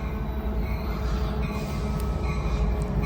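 An Amtrak Capital Corridor train led by a 2010 F59PHI locomotive rumbles past steadily and up close at a station, with a continuous low roar of rail noise and faint high wheel squeal. No one speaks.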